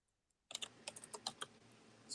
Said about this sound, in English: Excuse me while I type.